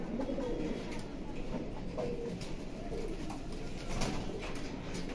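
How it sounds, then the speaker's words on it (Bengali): A pair of pigeons coos in soft, repeated low phrases, close and fairly quiet over a steady background hiss, with no talking. "দেখেন ভিউয়ার্স আজকে আপনাদেরকে এক জোড়া চুইঠাল কবুতর দেখাই।"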